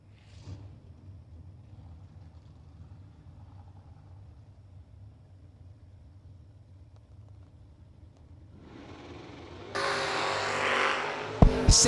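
Drag race cars, a Chevrolet Malibu and a Camaro door car, sit in a low idling rumble before erupting into a loud, sudden launch roar near the end, with engines howling close by.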